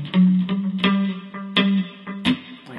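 Electric guitar plays part B of a song, a sequence of plucked notes and chord stabs with effects-laden, echoing sustain, heard alone and fairly close.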